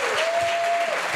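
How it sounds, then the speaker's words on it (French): Applause breaks out at an awards ceremony for Green World honoring Boukari, a dense steady clapping from the audience lasting about a second, loud and unbroken. "Est-ce qu'on peut applaudir Boukari?"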